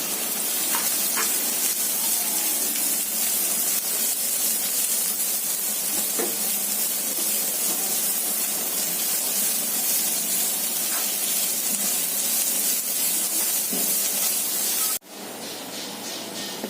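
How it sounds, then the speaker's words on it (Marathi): Chopped onion sautéing in oil in a pan with garlic for a village-style wild bean-pod vegetable dish, a steady loud sizzle and hiss throughout, with light stirring scrapes, dropping quieter near the end. "आता त्यामध्ये आपण हा कांदा घालूया, तो पण चांगला लाल होईपर्यंत परतायचा आहे"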